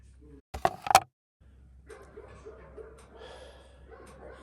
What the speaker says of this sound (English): Too many dogs are barking.